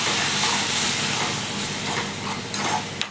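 Tomato paste sizzles in hot oil in a pan for an egg gravy, a steady close hiss with faint stirring and a few brief clicks near the end.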